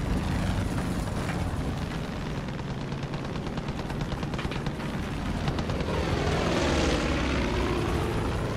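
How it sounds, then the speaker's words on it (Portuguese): A propeller airplane engine drones in Far Cry 5, a loud, continuous buzzing roar with shifting pitch and sweeping tones as the plane maneuvers, mixed with game effects and no talking. "Meu, que treta pra controlar esse avião"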